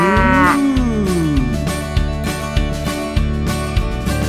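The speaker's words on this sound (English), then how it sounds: "It's a cow." A single loud, drawn-out cow moo with a rising then falling pitch opens over a bouncy children's song with steady drum beats, the moo sitting prominently on top of the music.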